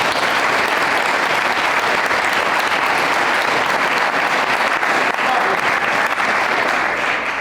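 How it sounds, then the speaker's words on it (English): A school audience at a question time event on sexual harassment applauds the visiting panel, dense continuous clapping filling the room at a loud, steady level throughout. "Can we have a little round of applause for our panel travelling a long way for you?"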